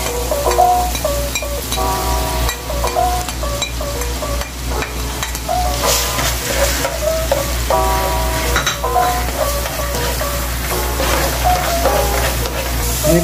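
Garlic sizzling in melted butter in a pan, a steady crackling fry with intermittent stirring scrapes, close and fairly loud throughout.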